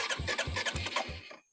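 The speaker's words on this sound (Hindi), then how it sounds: "अभी मैंने चाबी लगाया बाइक के अंदर एंड मैं वापस से सेल्फ लगाऊंगा" A Royal Enfield Hunter 350 motorcycle with a misfiring, breakdown-prone engine turns over on its electric self-starter, four quick rhythmic cranking pulses close up that stop suddenly without the engine catching.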